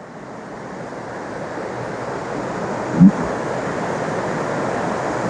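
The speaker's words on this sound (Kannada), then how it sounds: "ಯಾವಾಗಲೂ ನೀರು ಹರಿತಾನೆ ಇರುತ್ತೆ" Water flows continuously at a temple, a steady broadband rush with wind buffeting the microphone and a single brief knock partway through; no one speaks.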